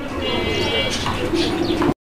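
Fancy pigeons cooing at a farm, a low throaty coo rising out of the background with a voice talking over it and a brief cut near the end.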